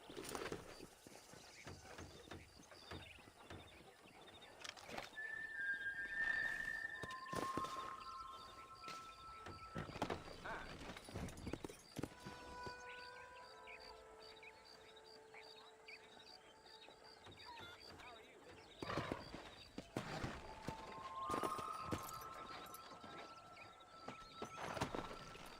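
A horse's hooves clip-clop steadily while being ridden through open country in Red Dead Redemption, fairly quiet under whistling tones and ambient game sounds, with no talking.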